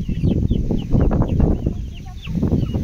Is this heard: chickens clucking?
yes